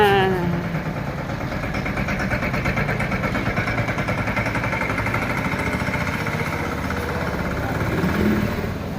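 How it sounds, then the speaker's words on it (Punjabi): A freshly serviced tractor engine runs steadily nearby, a constant low chugging rumble with an even throb that holds throughout without pause. "ਚੱਲਿਆ ਸਰਵਿਸ ਹੋ ਗਿਆ ਟਰੈਕਟਰ ਬੜਕ ਤਾਂ ਪੂਰੀ ਹੈ"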